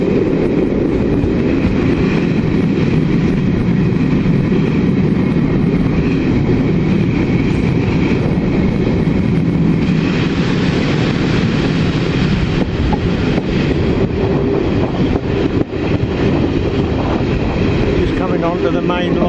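A train runs along the main line on the Trent-Lakelander railtour, a loud, steady rumble and rattle heard from aboard throughout, with no clear voices.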